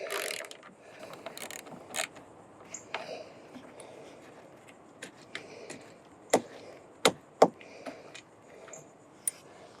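A ratchet wrench loosens the bolts on a Jeep's removable roof, giving quiet clicking and ratcheting with a few sharper, louder clacks close by, in irregular bursts with no talk.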